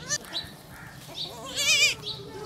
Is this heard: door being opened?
no